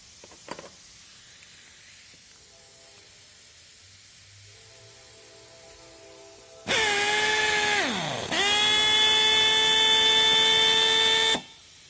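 A Blue Pneumatic spin-spin rivet nut tool runs on compressed air, first a quiet hiss, then a loud, steady high whine that dips briefly in pitch, recovers and holds before cutting off abruptly.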